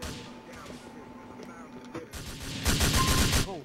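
Bursts of gunfire in an online clan-battle shooter game, starting sparse and then turning into a loud rapid volley near the end, with game noise in the background.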